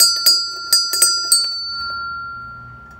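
A bright doorbell rings several times in quick, uneven strikes, each tone lingering and slowly fading into quiet.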